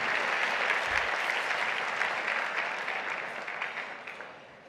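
A room of attendees at the Central Houston annual meeting claps steadily, a dense wash of many hands that holds strong and then gradually tapers off.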